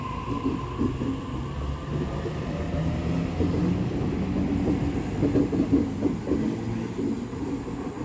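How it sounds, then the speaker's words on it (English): Sydney train pulling away from Normanhurst station platform, a steady rumbling roll with wheel clatter and rising movement noise throughout, fairly close and loud with no talking. "A62 departing platform number 1 for a central service."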